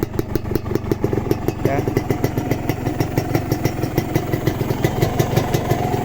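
A Kawasaki Ninja two-stroke motorcycle engine idles close by with a steady, rapid popping beat and a rattly mechanical clatter, while someone talks briefly over it.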